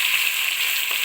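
Cut tomatoes frying with onion in a pan for sprouted-bean sambar give a steady, bright sizzle, even and close, with no voices over it.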